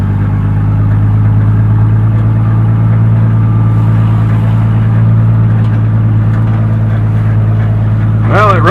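Engine of a 1978 Chevy C10 pickup, revived after 24 years off the road, idling steadily with a deep, even low rumble, loud and close throughout, with a brief sound at the very end.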